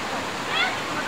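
Clean mountain-fed water of the Sorong River flows with a steady, rushing wash at close range, a faint voice mixed in.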